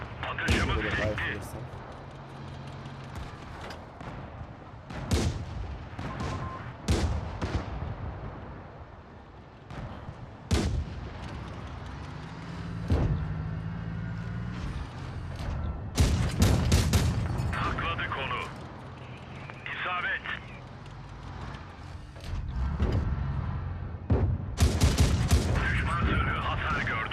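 Tank cannons fire in the World of Tanks Blitz game, with an American M2 light tank in play. Repeated sharp booms and bursts come at irregular intervals over rumbling battle noise, and someone talks throughout.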